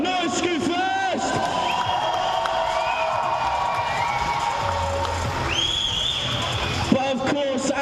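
A large crowd at the Scootfest 2015 scooter competition cheers and shouts for the winning teams, with sustained loud noise and children's yells. An amplified announcer talks over it the whole time.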